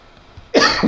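A sudden, close cough bursts out after a brief quiet pause, harsh and throaty, marking the start of a coughing fit.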